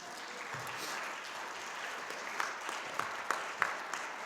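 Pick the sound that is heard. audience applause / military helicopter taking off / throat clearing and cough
audience applause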